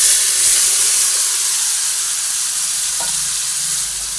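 Marinated chicken tipped into a pan of fried onions for malai chicken, sizzling steadily and loudly up close with soft scraping as it is stirred, no voices.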